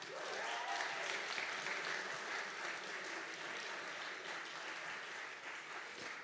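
An audience at a university entrepreneurship innovation challenge final claps continuously, a sustained dense round of applause from a crowd, moderately distant and even throughout.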